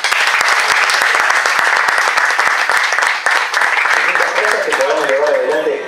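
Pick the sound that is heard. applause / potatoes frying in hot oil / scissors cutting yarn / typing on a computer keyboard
applause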